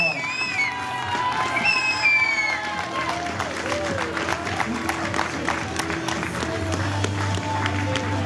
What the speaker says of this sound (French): Applaudissements pour nos filles, plus fort!